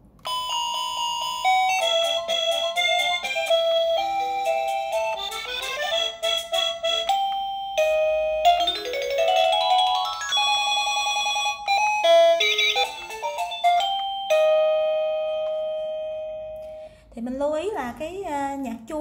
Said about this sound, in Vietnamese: mình thử chỉnh cho các bạn nghe một số cái tiếng nhạc chuông ha